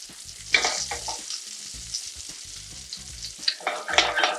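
Pierogi frying in butter in a pan, with a steady close sizzle and repeated scraping and stirring clatter as the dumplings are turned and coated.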